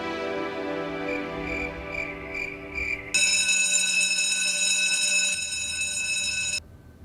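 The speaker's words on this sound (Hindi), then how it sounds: "आज अलार्म बंद करने का हमारा बारी है।" A bedside alarm rings on and on, first a buzzing electronic tone, then a bright, harsh, steady ringing that cuts off abruptly near the end, loud and close with no voices.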